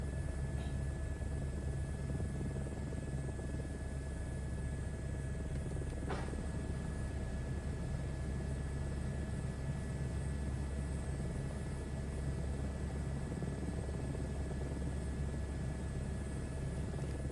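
Steady aircraft engine drone from a flight simulator game, a constant low rumble with a faint whine running unchanged throughout, with no speech.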